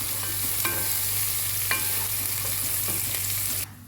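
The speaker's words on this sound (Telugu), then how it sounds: "ఈ ఉల్లిపాయలు బాగా ఫ్రై అయినాక మనం కొత్తిమీర వేసుకుందామండి. మనం ఇలా ఫ్రై చేసుకోవాలండి, బాగా బ్రౌన్ వచ్చేటట్టు." Onions fry in a pan with a loud, continuous sizzle, while a spatula stirs and scrapes against the metal every second or so. Nobody speaks, and the sizzle drops away abruptly near the end.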